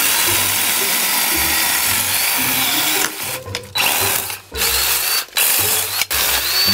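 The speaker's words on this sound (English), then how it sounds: "The lopper's all oiled up and ready to go." A Craftsman cordless chainsaw lopper cuts through wood outdoors, a close, buzzing motor whine that bogs and dips several times as the chain bites, with brief pauses between cuts.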